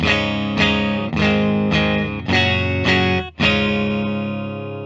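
A 2022 Fender Ultra Luxe Jaguar electric guitar on the bridge pickup at full strums a series of chords, roughly one every half second, each ringing bright and full with a slightly driven edge.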